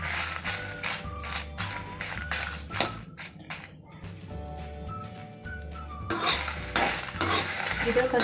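Dried red chillies roast in a dry pan while a metal spatula stirs and scrapes them, making repeated close clinks and taps over a faint sizzle.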